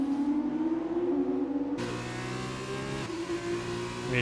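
An F2 race car accelerating in a racing video game, a high engine whine climbing steadily in pitch with abrupt gear-change drops, loud and continuous with no talk over it.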